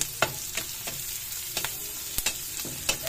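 Onion and garlic fry in hot oil for a Filipino bean sprout lumpia filling, a steady close sizzle broken by sharp, irregular scrapes and clacks of a utensil stirring the pan, with no talking.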